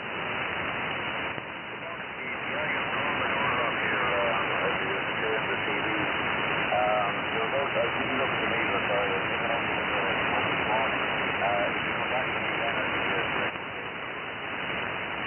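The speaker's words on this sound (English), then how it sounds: "your signal's not too strong, but certainly copy 5" A weak amateur radio signal buried in dense hiss and static, with a faint voice coming through the noise, band-limited and steady for the whole stretch.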